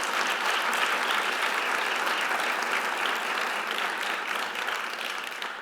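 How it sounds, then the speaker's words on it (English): Dense applause from a gala audience at an International Education Week celebration, a thick wash of many hands clapping at once, loud and sustained before tapering slightly at the end. "a round of applause for our special guests, all of you that are here tonight"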